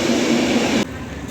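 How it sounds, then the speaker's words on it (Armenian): A train pulls into a station with a loud, close rumble that cuts off abruptly partway through the short stretch. "գնացքն եկավ"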